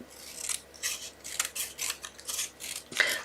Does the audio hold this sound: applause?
no